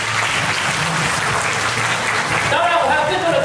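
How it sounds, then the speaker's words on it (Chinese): An audience applauds at a magic show: dense, continuous clapping from a crowd, holding steady and close throughout. "掌声鼓励。"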